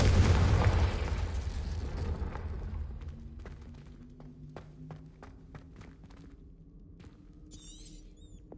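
The Confringo explosion spell in Hogwarts Legacy goes off as a loud, deep boom that slowly fades, followed by quieter light clicks and footstep-like taps.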